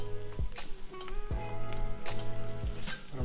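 A mince-filled tortilla fries in oil on a griddle with a steady crackling sizzle, broken by a few soft thuds and clinks of a utensil close by, and no one speaking.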